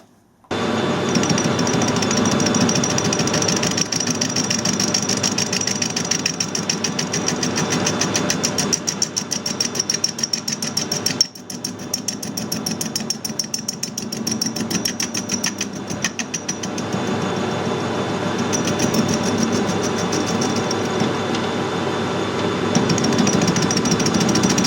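A welded-up drill spindle is machined, producing a loud, continuous grinding clatter with engine-like motor noise and a short dip near the middle, no talk.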